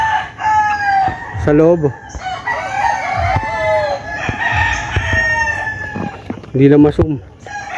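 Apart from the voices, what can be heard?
young roosters (stags) crowing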